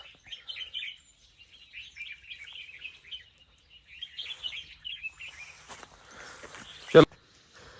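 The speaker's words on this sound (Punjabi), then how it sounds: "ਪੰਛੀਆਂ ਦੀਆਂ ਆਵਾਜ਼ਾਂ ਸੁਣੋ" Small birds chirp and twitter in quick bursts nearby in a forest in Punjab, against a quiet background. A sharp rustling knock lands near the end.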